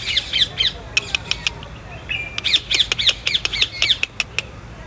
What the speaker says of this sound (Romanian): Peste tot, plin de păsări.